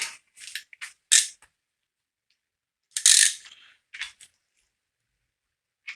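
A ratchet spanner tightening a bolt on the camshaft chain assembly of a GT40 engine build, several short bursts of sharp close clicking separated by pauses, no talking.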